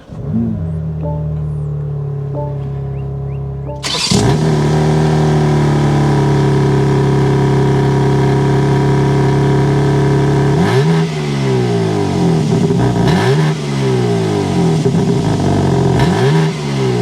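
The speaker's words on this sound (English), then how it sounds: "this is a twin turbo inline 6. Let's go inside, start it up so you can hear that exhaust." A 2024 BMW M4 Competition's twin-turbo inline-six engine cranks and fires up at about four seconds, settles into a loud steady idle, then revs sharply several times in quick bursts.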